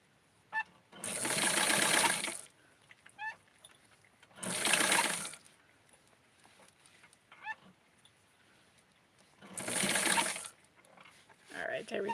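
A sewing machine stitches Barbie nylons in three separate bursts of rapid whirring, with quiet talk and small handling noises between the runs.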